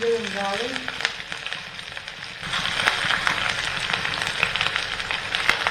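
Onions, ginger and garlic frying gently in hot oil over a low flame, a steady soft sizzle with scattered crackles and pops running throughout, with a brief voice near the start.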